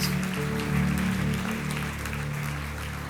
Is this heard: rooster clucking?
no